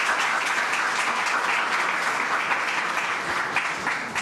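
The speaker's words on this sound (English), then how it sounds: "Let's give them a round of applause." An audience at a presentation unveiling redesigned MTA subway cars gives a round of applause, dense and steady clapping that fills the room for several seconds and tapers slightly at the end.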